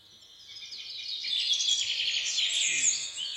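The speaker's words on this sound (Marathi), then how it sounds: "पक्ष्यांची किलबिल तुमच्या माझ्या अंतःकरणाला स्पर्श करून जाते." Small birds chirp and tweet in a dense, continuous high chorus that swells after the first second and stays steady and fairly close, with no voices present.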